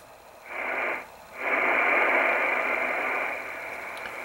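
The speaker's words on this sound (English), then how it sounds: "There are multiple tones here, and these are all BPSK signals." BPSK31 digital radio signals received on the 14.070 amateur band: steady warbling data tones amid hiss, with a short gap after the first burst before the tones resume and hold loud and continuous.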